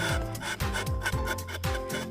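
A knife scrapes the bark of a rubber tree to open a tapping panel, making repeated close rasping strokes in a steady back-and-forth rhythm.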